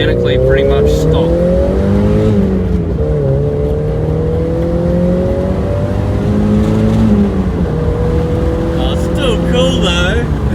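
A stock Mazda MX-5 NA roadster drives along, its small four-cylinder engine humming loud and steady from inside the cabin, rising and falling as the revs shift, with a driver talking over it.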